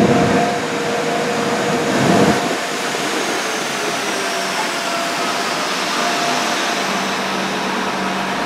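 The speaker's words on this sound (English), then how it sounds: "Here's a freight train that's about to pass through Cardiff Central, 66054 on the front." Freight train headed by locomotive 66054 passing through Cardiff Central station, a steady broad rumble and roar that is loudest at the start and then holds as a continuous wash of rail noise, with no voices.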